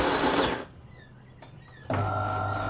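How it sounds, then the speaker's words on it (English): A DeLonghi Autentica Cappuccino ETAM 29 660 SB bean-to-cup coffee machine grinds beans in two loud, close whirring bursts separated by a quieter pause with faint mechanical ticks. "It's grinding the coffee now."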